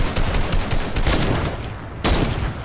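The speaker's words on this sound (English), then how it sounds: "Scott, don't shoot the ground" Fortnite gunfire in a quick, dense barrage of loud, close shots, with a sharp burst near the end.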